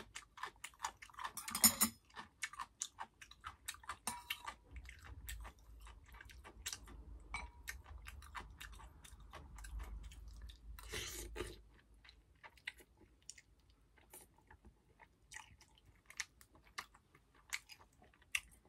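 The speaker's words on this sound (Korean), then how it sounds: "닭강이 찔겨가지고 가죽 씹는 것 같아" Close, moist chewing and crunching of tough, leathery chicken with irregular small clicks and bites, continuing for a while with no talking.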